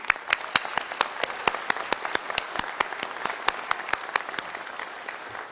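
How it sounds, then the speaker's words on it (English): Applause at a university commencement ceremony for new graduates: sparse, distinct claps with a clear irregular rhythm, carried over a soft background of more distant clapping. "Let's all give a round of applause for our newest SDSU graduates and future leaders."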